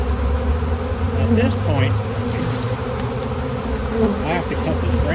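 A dense swarm of honeybees drones loudly and continuously all around, a thick, close buzz with individual bees zipping past; someone speaks briefly over it.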